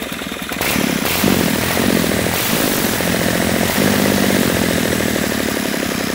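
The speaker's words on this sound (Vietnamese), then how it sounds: "Rồi đây em sẽ tắt máy nổ cho anh em mình xem luôn." Kubota D850-02 90 PS diesel tractor engine running steadily, a loud, continuous rumbling drone with a rapid rhythmic knocking pulse, close by and alone with no voices.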